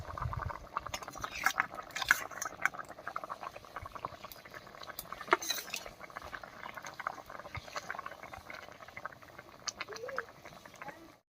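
Spice-marinated sea fish going into a bubbling curry in a village kitchen, with a steady soft simmering and sputtering, scattered clinks of utensils against the pot, all fairly faint and close.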